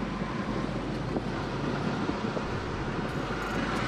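A Maruti Alto VX petrol hatchback drives along, its engine a steady broadband drone mixed with road and wind rush, loud and continuous throughout with no talking.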